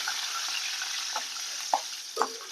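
Garlic cloves frying in hot oil for vatha kuzhambu, a continuous bright crackling sizzle close by with a few soft stirring knocks, no talking.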